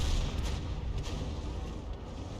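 M44 self-propelled artillery gun in a tank combat video game firing a round, a heavy low boom with a rumbling tail over steady battle ambience.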